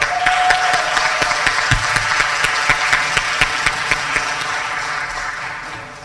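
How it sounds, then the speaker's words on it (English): A crowd at a graduation ceremony claps steadily for several seconds, a dense, lively applause that eases slightly toward the end. "So one more applause for her."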